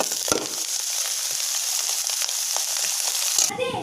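Chicken and cooked ration rice sizzle loudly in a hot pan for fried rice, a steady bright hiss broken by a few scraping clacks of stirring, ending with a brief clatter.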